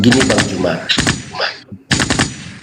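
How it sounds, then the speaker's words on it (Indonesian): Firecrackers crackle in rapid bursts, loud and near, with a short gap before another burst, while people talk over and between the pops. "Ada orang bakar petasan."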